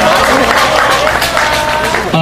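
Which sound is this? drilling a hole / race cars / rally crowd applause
rally crowd applause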